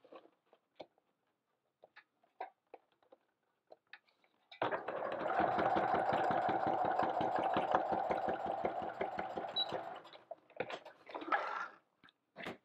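A sewing machine stitching through a handmade gift card holder runs steadily for about six seconds as a fast even rattle, framed by scattered clicks and handling taps before and after.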